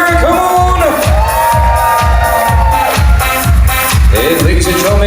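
A wedding reception crowd applauds and cheers for the groom's parents, loud and continuous, with whoops over a thumping dance-music beat that pulses steadily throughout.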